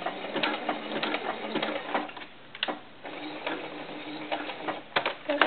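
A sewing machine stitches knit fabric for a doll's sleeveless tank top, giving a quiet, uneven mechanical whirr with short stops and starts and a few sharper clicks. No one speaks.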